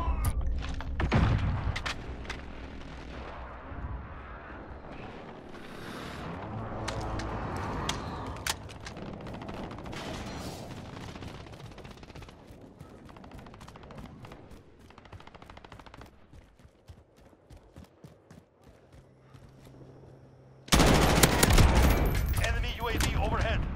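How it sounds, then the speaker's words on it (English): Call of Duty: Modern Warfare multiplayer match with an airstrike, heavy sustained gunfire and booming impacts, then quieter action before a sudden loud burst of blasts near the end. "Allied precision airstrike incoming"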